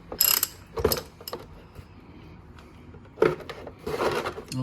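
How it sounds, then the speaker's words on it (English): Ratchet working the primary chaincase drain bolt underneath a 2022 Harley-Davidson Street Bob 114, a few short clicking bursts near the start and again after a pause, close and alone. "now we're gonna undo the drain bolt underneath here."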